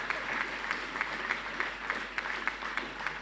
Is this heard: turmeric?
no